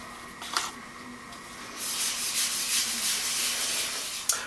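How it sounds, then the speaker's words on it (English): Hampshire Sheen High Gloss being rubbed onto a spinning hackberry bowl on a woodturning lathe, a steady hissing friction that grows louder halfway through and ends with a small tap. "So now I'm going to apply some Hampshire Sheen High Gloss."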